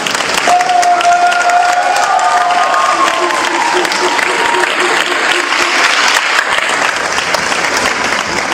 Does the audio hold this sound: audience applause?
yes